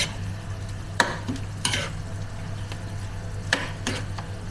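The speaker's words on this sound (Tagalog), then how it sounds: "Haluin lang natin." Beef cubes are stirred in a pan with a spatula, with several sharp scraping strokes over a low hum and faint background sizzle, and no talking.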